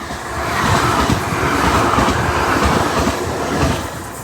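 A train passing through Filton Abbey Wood station makes a steady, loud rumble and rattle of wheels on rails, swelling and holding for several seconds before easing slightly.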